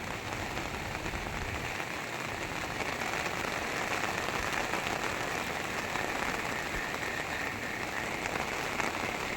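Heavy rain pours steadily over a village in Gujarat during a downpour that floods its streets, a dense, continuous hiss of drops on surfaces that holds close and loud for the whole stretch with no voices.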